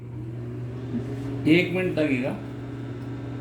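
A microwave oven hums steadily with a dish of potato, vegetable and barbecue food inside, a low continuous drone running beneath a person speaking in the kitchen.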